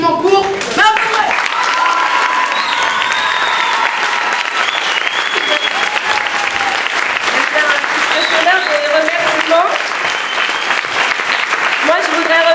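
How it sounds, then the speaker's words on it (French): Audience at a middle school theatre show giving sustained, thunderous applause, a loud, dense, continuous wash of clapping hands with cheers and voices layered over it throughout. "je voudrais un tonnerre d'applaudissements pour Mme Poudret."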